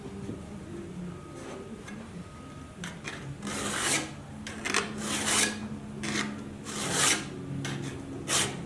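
A 12-inch second cut metal file rasps across the edge of a steel cabinet scraper in uneven strokes, close and fairly loud, with pauses between passes.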